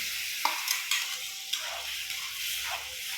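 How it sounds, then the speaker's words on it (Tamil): Coconut masala is stirred in a hot cooking pan for green pea kurma, with soft scraping strokes and a gentle sizzle repeating every half second or so, close and fairly quiet, with no talking. "நல்லா கிளறி விட்டுக்கலாம்."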